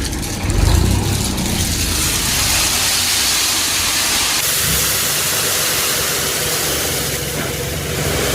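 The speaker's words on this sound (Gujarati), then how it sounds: "મગફળી બધી ટ્રેક્ટર આવી ગયું છે ઘરે" A tractor carrying harvested peanuts runs at a farmhouse, its engine giving a loud, steady rumble and broad hiss that holds throughout with no voices.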